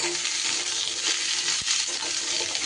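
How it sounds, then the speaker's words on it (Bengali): Chopped raw papaya stirred in hot oil, giving a steady close sizzle with scraping stir strokes and one sharp knock partway through; no talking. "আর এই তেলের মধ্যে এইবার এই কেটে রাখা পেঁপেটা কিন্তু একটু কাঁচা গন্ধটা যাতে চলে যায় একটু নাড়াচাড়া করে নেব"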